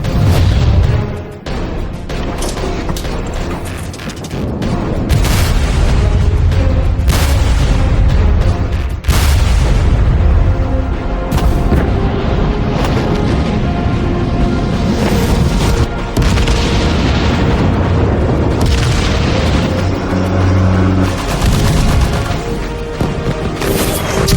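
Deep naval gunfire booms and explosions from the World of Warships game roll out under a dense musical score, the heavy low blasts repeating throughout and loud.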